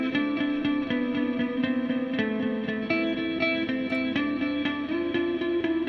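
An electric guitar run through a PRS Archon amp preset plays a steady picked pattern, each note trailing into heavy delay repeats and a wash of reverb that blur into a continuous atmospheric drone.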